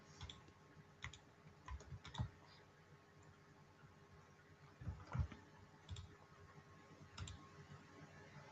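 Soft, quiet mouse clicks come while nodes are control-clicked in drawing software on a computer, as single and double clicks spaced irregularly a second or more apart, with a faint hum underneath.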